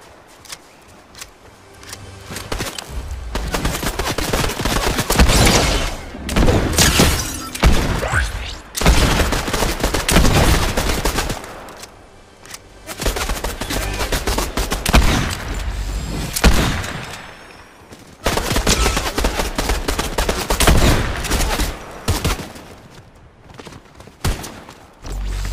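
An explosive repeater rifle fires in the video game Fortnite as heavy gunfire bursts in loud repeated volleys with booming impacts, separated by short gaps of quieter footsteps and movement, with no talking.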